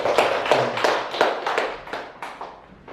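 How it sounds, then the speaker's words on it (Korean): A church congregation claps in a quick, even rhythm, about three claps a second, for a few seconds. The clapping is close and fairly loud, then grows slightly softer, with no talking over it. "우리 박수 한번 할까요?"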